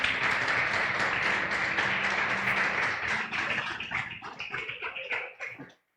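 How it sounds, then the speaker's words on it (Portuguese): A congregation applauds loudly in church, a dense burst of many clapping hands that thins into scattered individual claps and fades out near the end. "Você pode aplaudir o Senhor bem forte em nome de Jesus."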